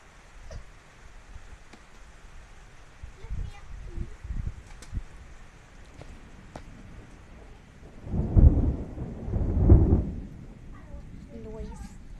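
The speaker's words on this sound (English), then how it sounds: "It's getting really rainy." A thunderstorm with steady rain pattering in the background and two heavy, close rumbles of thunder rolling in toward the end, while voices talk intermittently.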